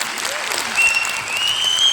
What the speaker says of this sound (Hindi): आपको मैं ताली बजानी है तो जोरदार बजानी है, एक बार बजानी है तो जोरदार बजानी।